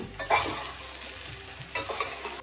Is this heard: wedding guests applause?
no